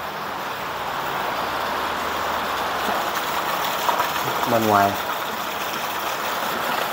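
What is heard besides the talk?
heavy rainwater running through gutter of abandoned house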